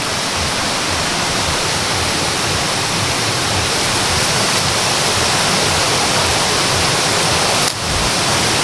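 Steady, dense rush of flowing water from a forest stream just ahead, loud and continuous with no talk over it.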